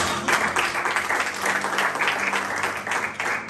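A church congregation applauds and cheers in praise of the Lord during a French-language sermon: dense, sustained clapping from many hands, close and loud, filling the whole stretch without pause.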